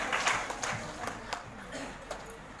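Scattered applause from a Hindi-speaking event audience welcoming a speaker to the stage, irregular claps rising and fading at moderate loudness, with voices mixed in.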